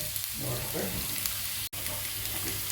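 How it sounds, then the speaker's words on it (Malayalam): Fennel seeds fry in a pan with chopped garlic and get stirred, making a soft, continuous sizzle with faint scraping. The sound is quiet and close, with a brief dropout near the end. "പിന്നെ വലിയ ജീരകം അല്ലേ പിന്നെ അതൊന്ന് ഇളക്കി കൊടുക്കും"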